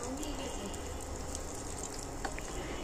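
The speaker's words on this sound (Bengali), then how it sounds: "কিশমিশটা দিয়েও একটু কিছুক্ষণ ভেজে নেব" Washed raisins fry in hot fat in a pan for Bengali-style basanti pulao, giving a steady, even sizzle that holds at one level throughout, with no voices.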